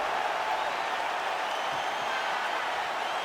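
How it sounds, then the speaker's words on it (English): Restless arena crowd in EA Sports UFC 5 keeps up a steady, dense murmur with scattered cheering, a continuous wash of noise at even loudness for the whole stretch, with no distinct voice standing out. "Crowd getting a little bit restless."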